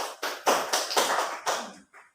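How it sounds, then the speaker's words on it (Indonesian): Classroom applause for a classmate: a short burst of hand clapping, several bright, sharp claps in quick irregular rhythm, fairly close and alone, tapering off after about two seconds. "beri tepuk tangan buat temannya"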